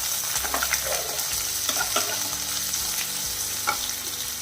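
Square-cut onion, ginger and dried red chilies sautéing in a pan for sweet potato masala, a continuous sizzle broken by repeated stirring scrapes and taps of the spoon.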